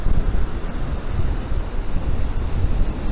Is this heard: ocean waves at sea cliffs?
yes